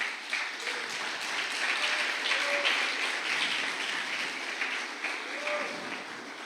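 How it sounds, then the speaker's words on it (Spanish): Church congregation applauding in praise during a sermon, a steady wash of clapping held throughout, with faint voices cheering or calling out above it. "Dele un aplauso al Rey."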